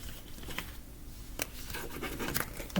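Tarot cards are shuffled by hand with soft, irregular riffling and scratchy patter, faint and close, with no talk.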